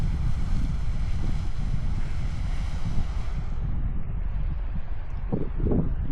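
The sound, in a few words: Cliff Geyser water spouting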